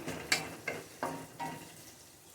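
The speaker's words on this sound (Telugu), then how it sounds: "ఉల్లిపాయ వేయించి బాగా వేయించాలి." Onion frying in a pan for fried rice, with four quick stirring scrapes at regular intervals over a low, faint sizzle, close by and without talk.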